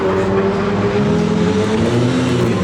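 A Nissan R32 GTR engine idles and rumbles steadily in a garage at a Laguna Seca track day, a loud, close, throaty drone with a slight rise in revs.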